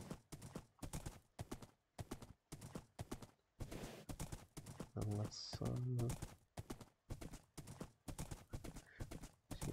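Rhythmic clip-clop of horse hooves in Minecraft, evenly spaced steps throughout, with a brief horse whinny midway and someone talking over part of it.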